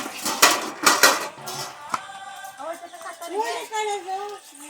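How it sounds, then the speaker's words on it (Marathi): Metal pots and utensils clatter and clink in a couple of loud bursts as they are taken out for washing, followed by people talking nearby. "आणि सगळी भांडी काढलेली आहेत घासायला"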